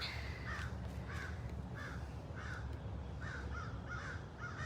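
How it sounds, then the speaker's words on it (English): Several crows caw repeatedly at the Big Cat Rescue sanctuary in a steady series of harsh calls, somewhat distant, over a constant low outdoor rumble. "those crows are not happy about something"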